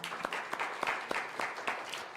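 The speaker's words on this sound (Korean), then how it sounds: "우리 박수." Audience applause at a Korean military chaplaincy gathering for soldiers, a short burst of dense, crisp clapping heard fairly close with distinct individual claps standing out over the steady patter.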